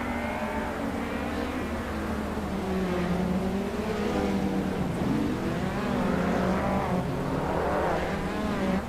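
Race cars in a racing video game on the Highlands short track, including a 1982 Renault 5 Turbo Toro, engines droning and rising in pitch as they accelerate together, loud and steady throughout with no talk.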